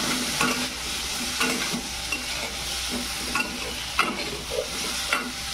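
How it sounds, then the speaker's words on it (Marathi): A spatula stirs guava pieces frying with masala in a pan, giving repeated scraping strokes every second or so over a low, steady sizzle. "लगेच आता भाजी टाकून घेऊ. मिक्स करून घेऊ. ते ढवळून घ्यायचे."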